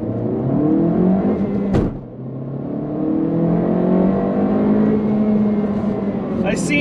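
Turbocharged engine of an 11th-gen Honda Civic Si revving hard during a pull, a loud steady in-cabin drone with rising harmonics, briefly broken by a sharp click before resuming.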